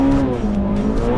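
Toyota Celica sliding sideways in a drift at a car club skid event, tires squealing in a loud sustained howl over the engine's drone, close and continuous.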